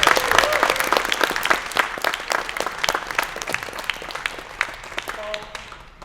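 An audience in a room at a music competition semi-final applauds, loud crisp clapping that gradually fades and thins out over several seconds, with a few voices murmuring underneath.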